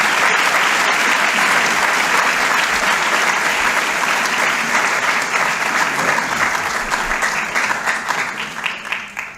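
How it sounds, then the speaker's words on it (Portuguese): Sustained, loud applause from a large audience at a medical school clinical-cycle ceremony, dense clapping holding steady for several seconds before starting to thin toward the end. "Portanto, eu a todos pedi outra salva de palmas."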